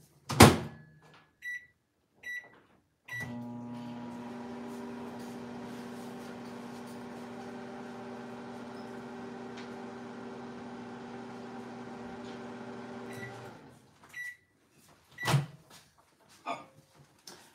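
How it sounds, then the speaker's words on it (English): A microwave oven melts chocolate candy melts: a door thunk and beeps, then a steady humming run of about ten seconds, ending with beeps and the door clunking open. "I'm going to throw it back in the microwave for about 10 seconds."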